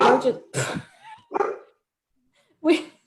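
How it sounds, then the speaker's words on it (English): A dog gives a few sharp, loud barks in separate bursts with brief pauses between them, fairly close by indoors. "her dog scared all of us"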